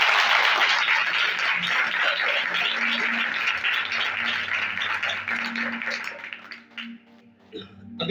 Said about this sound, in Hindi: तालियां बजा सकते हैं उस कार्यक्रम।